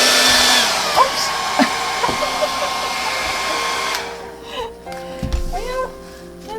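A hair dryer blows paint for a Dutch pour, a loud close steady whir that cuts off partway, followed by clatter and faint voices.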